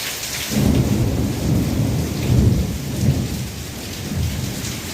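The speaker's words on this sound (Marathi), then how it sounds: "खूप मोठा पाऊस पडला" Heavy rain pours steadily while deep rumbles of thunder roll through, swelling and fading in several low waves.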